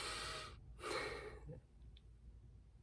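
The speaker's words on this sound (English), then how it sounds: "take a deep breath" A single deep breath, drawn in audibly, a short pause, then a long breathy exhale, quiet and close, fading into near silence.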